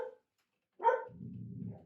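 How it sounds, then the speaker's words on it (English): A pet dog indoors gives a short bark, pauses, then lets out another sharp bark trailing into a low growl; quiet and somewhat distant. "That is my dog's barking."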